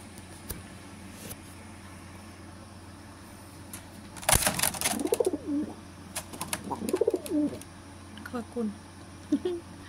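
A bad-tempered domestic pigeon gives several close, throaty coos in short bursts during the second half, mixed with some human vocal sounds and a sharp knock partway through.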